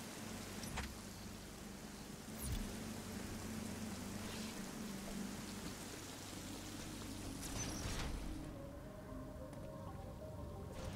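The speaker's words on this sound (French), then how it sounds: "Ah, il pleut." Rain falls steadily in the video game Metroid Dread, a dense, even patter across the whole stretch with faint game tones mixed underneath and no talking.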